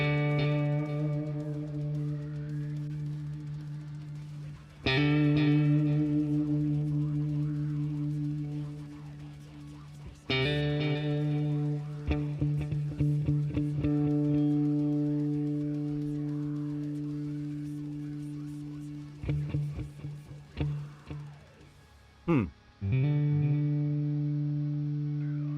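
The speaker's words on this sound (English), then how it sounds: "That's a nice sound we got for delay right now, or reverb" Electric guitar through the Polychrome DSP Lumos amp simulator with delay and reverb, sustained distorted chords struck several times, each ringing out in long echoing tails that fade and repeat, clear and close with no talking.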